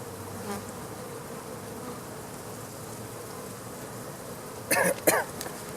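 Steady, dense buzzing of many agitated honey bees during honey extraction, continuous throughout, with a few brief rustling bursts near the end.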